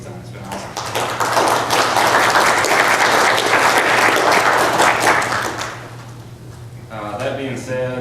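Round of applause from the audience at a county commission meeting in Carter County, Tennessee, steady dense clapping for about six seconds before fading, with a low hum beneath and a voice speaking as it ends.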